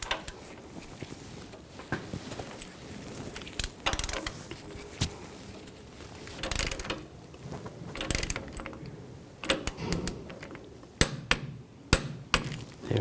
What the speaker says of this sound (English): we're going to torque this to 17 foot-pounds